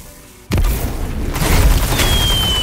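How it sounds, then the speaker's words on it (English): A grenade goes off in a shooter video game with a sudden loud boom. A rumbling tail and scattered crackle follow, then a rising whine that carries to the end. "That's why I love that grenade, dude."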